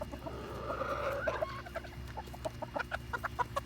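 Polish chickens cluck repeatedly at close range while being fed pumpkins, in a busy run of short calls, with no talk.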